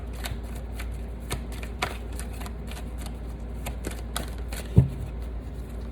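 Tarot cards are shuffled and handled close by, a steady run of soft riffling flicks and light taps with a few sharper snaps as cards are drawn.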